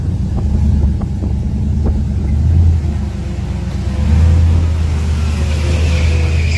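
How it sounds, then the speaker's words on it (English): A car doing a quiet burnout in an outdoor racing setting, its engine droning in a low steady rumble that swells twice, with wind buffeting the microphone. "That's a little quiet, little burnout."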